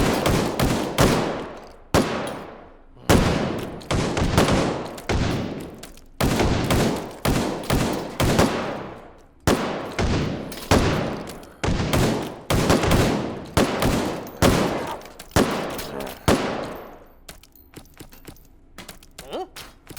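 Repeated bursts of gunfire at a firing line in the video game H3VR, loud close volleys and rapid strings of shots with brief gaps, fading to quieter activity near the end.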